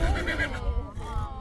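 A horse whinnies nearby at the Ranch Events Complex in Loveland, where horses were sheltered during the Alexander Mountain fire, its wavering neigh rising over background voices and general ranch commotion.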